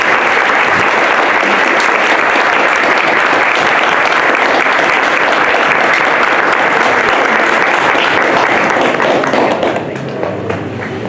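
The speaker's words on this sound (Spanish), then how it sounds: "les pido un aplauso gigante" Loud, sustained audience applause at an inaugural presentation about Malintzin and her huipiles, dense continuous clapping filling the hall for about ten seconds before tapering slightly at the end.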